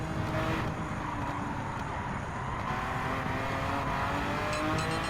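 A 1967 Ferrari 330 P4 racing car in the Gran Turismo 7 game at Autodromo Nazionale pulls hard under acceleration, its engine a dense, continuous roar with no pauses.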